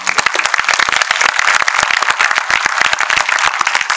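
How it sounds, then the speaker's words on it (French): Audience applause at a French conference presentation, dense and steady clapping from many hands filling the room without any talk over it. "je pense qu'on peut les applaudir"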